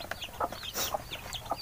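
Backyard broiler chickens in a semi-free-range coop cluck in short, close bursts, one bird giving a louder squawk midway.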